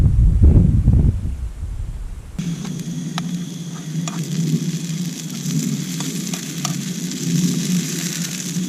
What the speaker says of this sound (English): Just making a start with me burgers now it's stopped raining.